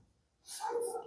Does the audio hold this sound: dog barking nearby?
yes